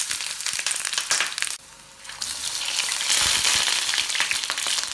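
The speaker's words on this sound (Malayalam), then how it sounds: "ഇനി വഴുതിനങ്ങ ഈ ചൂടായ എണ്ണയിലേക്കിട്ട് ഫ്രൈ ചെയ്തെടുക്കാം." Eggplant (brinjal) pieces fry in hot oil in a pan for an achari baingan masala, giving a loud, steady sizzle that drops briefly before swelling again into a dense crackle.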